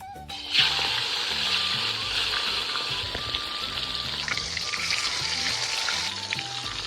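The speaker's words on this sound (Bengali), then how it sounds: "তেল গরম হয়েছে, দিয়ে দেবো মাছ।" Fish dropped into hot mustard oil in a wok over a village stove bursts into a sharp splash of sizzling, then settles into a loud, steady crackling fry with faint music underneath.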